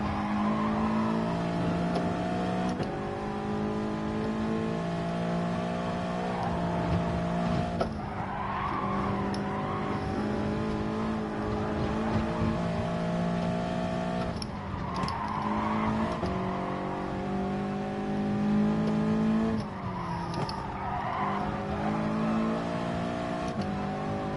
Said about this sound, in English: we're drifting it and everything